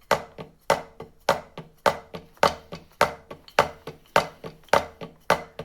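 Drum kit struck in repeated groupings of two, sharp close hits in a steady rhythm, each pair of strikes decaying quickly before the next, played alone without talk.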